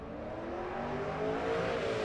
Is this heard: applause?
no